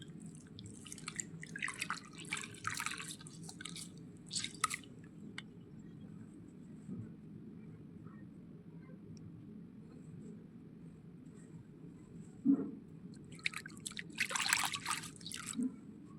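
Water drips and splashes in a few scattered bursts as a face is rinsed with water after a scrub, soft and close over a low steady hum, with long quiet gaps between them.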